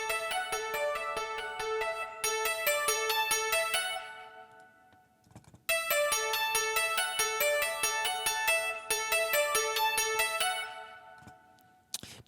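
A bright, shimmering keyboard patch with boosted treble plays worship-style chords alone, rich and sparkling with a lush chorused wash and reverb tails, pausing briefly before the phrase resumes.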